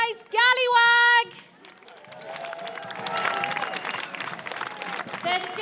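At a sailors' parade in Gothenburg, a crowd cheers and applauds, a steady wash of clapping and voices following a loud amplified announcement at the start.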